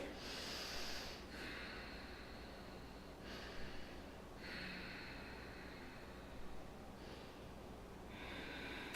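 Breathing during yoga practice: slow, audible inhales and exhales recurring in a steady rhythm, close but soft, with a faint hiss under each breath.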